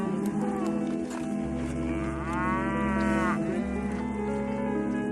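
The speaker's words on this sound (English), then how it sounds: "Today we have 60 million cattle that are populating feedlots." Cattle in a feedlot on the Great Plains, fed on grain, give a long, loud, close moo over a steady low herd rumble, with further lowing around it and no talk.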